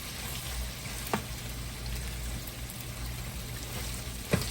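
Chicken browns in curry in a pot for Jamaican curry chicken, giving a quiet, steady sizzle and fry with a couple of faint clicks from stirring.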